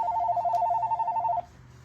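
A mobile phone rings from inside a back pocket: a steady electronic ringtone pulses for about a second and a half, then cuts off, leaving faint room noise.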